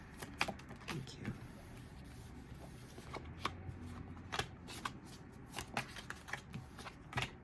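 Tarot cards shuffled and riffled by hand in a quiet room, a rapid run of soft papery flicks and snaps in irregular bursts, close and fairly faint.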